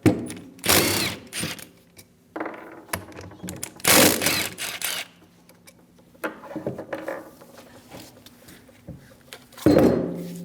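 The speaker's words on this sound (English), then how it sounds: "Using a 14mm socket, we're going to remove the 2 caliper bolts on the old caliper" A ratchet with a 14mm socket works loose the caliper bolts on a Chevrolet Malibu front brake, giving bursts of rapid clicking separated by quieter rattles and clanks, close and loud with no voices.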